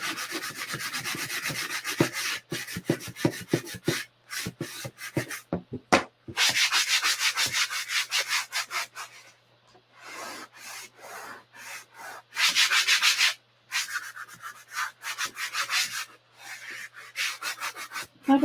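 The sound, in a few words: sanding block rubbing on a wooden pallet board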